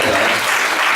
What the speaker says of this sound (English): put a big round of applause to the sponsor, Maverick Garages